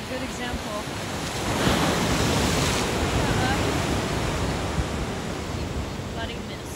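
Ocean waves break at Pismo Beach where surfers are out, a broad, hissing wash of surf that swells in the first seconds and then rolls on steadily, with wind in the background.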